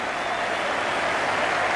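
A huge crowd of more than 87,000 applauding at the Melbourne Cricket Ground during the 1992 Cricket World Cup final between England and Pakistan, making a dense, steady wash of clapping that fills the whole moment.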